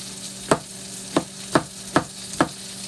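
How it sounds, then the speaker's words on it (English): A knife chops fresh okra into big chunks for gumbo on a cutting board, five sharp, evenly spaced thuds sounding close and clear against a quiet background with no talking. "I'm going to cut up this okra."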